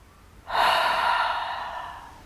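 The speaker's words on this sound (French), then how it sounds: "On inspire profondément." A single deep breath drawn in through the nose during a yoga twist sequence, a breathy rush that swells suddenly and then slowly fades over about two seconds, close and alone.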